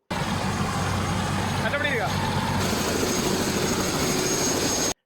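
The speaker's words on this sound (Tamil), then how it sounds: "ஹெலிகாப்டர்ல நாங்கள் வந்து ஒரு பயணம் கொண்டு போக போறோம்." Helicopter on a passenger ride, with a loud, steady engine and rotor roar that fills the whole clip, heard from close inside the aircraft.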